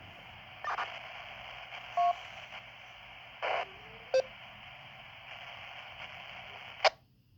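Several short electronic beeps and clicks from a Midland GXT1000VP4 walkie-talkie sound at irregular intervals over a steady radio hiss, fairly quiet, ending with a sharp chirp.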